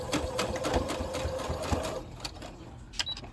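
A sewing machine runs a topstitch across a zipper, a quick even whirring stitch for about two seconds before stopping, followed by a few light clicks.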